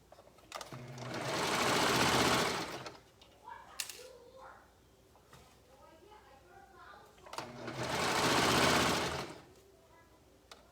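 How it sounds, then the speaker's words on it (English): Sewing machine stitching a child's swimsuit, two sustained runs of rapid motor stitching a few seconds each, separated by a quieter stretch of fabric handling and small clicks. "you're going around and you're sewing and then you're going around and you're sewing"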